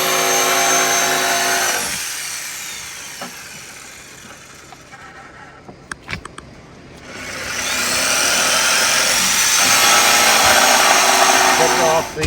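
A power tool cuts off an extra 1.25 inches of length outdoors, running loud for about two seconds, dropping out through a quieter middle stretch with a few sharp knocks, then starting again and running steadily to the end.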